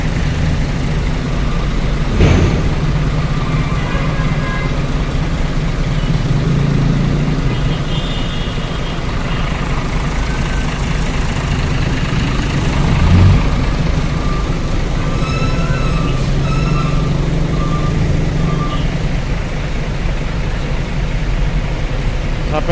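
Trucks idle at the Bakauheni ferry port, a continuous low diesel rumble with a few sharp knocks and clanks, while someone talks over the engines throughout.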